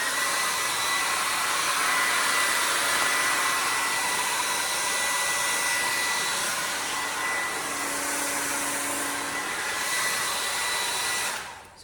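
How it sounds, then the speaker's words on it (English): Blow dryer running on high to heat and shrink plastic, a steady loud whooshing roar held continuously for about twelve seconds before cutting off at the end. "And then, handy dandy blow dryer."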